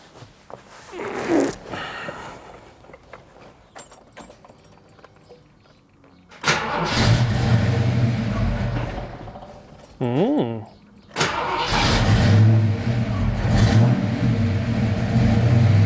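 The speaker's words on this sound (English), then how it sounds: "Alright, let's get this thing fired up, get it out on the road." Ford Foxbody Mustang with a B cam engine: the starter cranks and the engine fires into a loud rough idle, then there is a brief sharp rev and the engine settles again, close by, with a voice early on.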